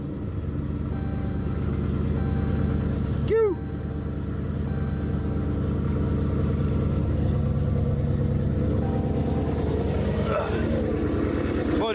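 Dodge Charger Scat Pack 392 with a Corsa full exhaust idling with a deep, steady rumble close by, one brief blip partway through, while people talk over it.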